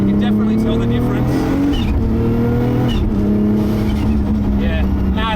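A 1000hp widebody R33 Skyline GT-R with an RB30 bottom end and sequential gearbox pulls hard under load, its engine droning loud and close with rising and falling harmonics, and a voice talks over it.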